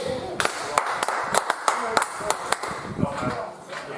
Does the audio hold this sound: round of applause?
yes